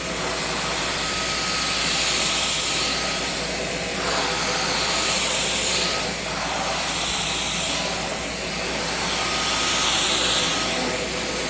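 A Shark vacuum cleaner running on carpet in auto mode, a steady loud whirring motor drone with airy rushing that swells and eases in waves throughout, with faint talk underneath.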